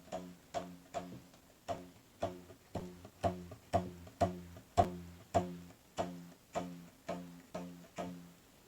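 A string held taut by a 494 gram soup can is plucked again and again in a steady rhythm, giving about sixteen short, soft, twangy notes that each decay quickly.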